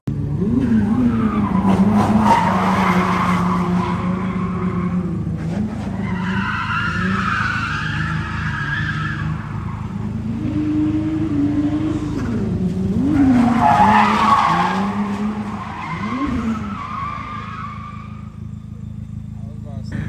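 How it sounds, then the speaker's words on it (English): A race car engine revs and shifts loudly as it drives around a track, rising and falling in pitch, with tire squeal, heard close. The car is a big-turbo Genesis Coupe. "But yeah, Ryan's out here driving"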